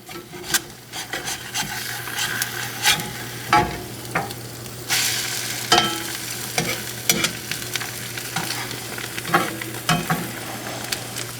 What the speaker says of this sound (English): look at that bacon sizzle